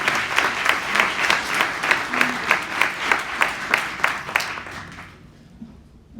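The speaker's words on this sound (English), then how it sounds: "So can we also give another round of applause for AI staff?" An audience at a scholarship ceremony applauding staff, a steady round of clapping with regular bursts that swells briefly and then fades out toward the end.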